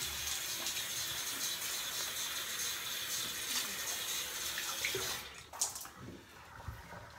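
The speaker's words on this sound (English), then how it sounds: "let me rinse this off" A Schick Magazine Repeating Razor is rinsed under a running tap, with a steady rush of water that cuts off near the end, followed by a few faint drips and clinks.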